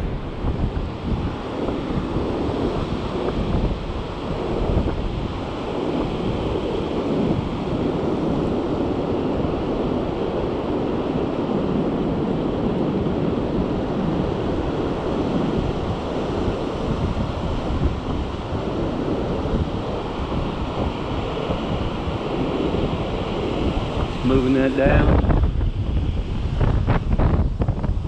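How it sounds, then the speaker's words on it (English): Ocean waves wash onto a surf perch fishing beach in steady wind, a loud continuous roar with heavy wind buffeting on the microphone, ending in a louder rush near the close. "Pay attention to these waves."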